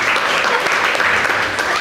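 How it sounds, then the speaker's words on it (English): Audience applause at a hypnotist show, loud dense clapping from a crowd that holds steady through the whole moment. "Well then, give her a big round of applause,"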